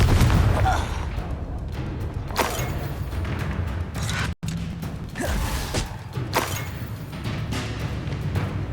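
Confringo blasting spell cast in the video game Hogwarts Legacy, a series of loud explosive bursts and booms with mechanical creaks, repeating across the clip amid combat noise and voices.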